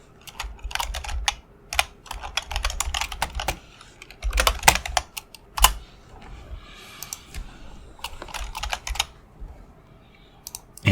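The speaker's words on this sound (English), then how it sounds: "why I'm typing instead of writing this down" Someone types on a computer keyboard while filling in a D&D 5e character sheet, producing close, crisp clusters of key clicks in irregular bursts with short pauses between them.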